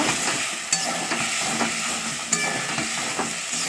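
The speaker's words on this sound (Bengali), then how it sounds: "এরকম মশলাটাকে কষাচ্ছি, জল দিয়ে দেব।" Spice masala for a paneer and pointed gourd curry fried in a pan, giving a steady, dense sizzle with a few sharp clinks of a stirring spoon against the metal; no voices.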